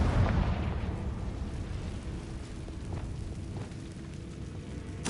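A Confringo fire-blast spell exploding in Hogwarts Legacy, a heavy booming burst that opens loud and rolls off into a rumbling tail, with another hit starting at the very end.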